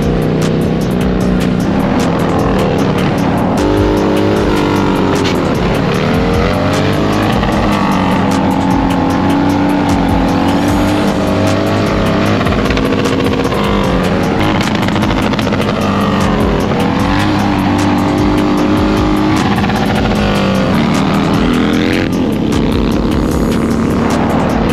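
Borrowed Harley-Davidson motorcycles ridden fast on cold roads, a loud sustained engine drone with rising and falling revs and heavy wind rush throughout, no talk.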